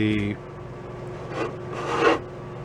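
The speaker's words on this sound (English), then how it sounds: "I've taken this palm sander here and put a 220 grit on it" Soft raspy sanding of a 1930s Slingerland snare drum's wooden shell with a 220-grit palm sander, a few swelling passes of rubbing friction after a short tonal hum fades out.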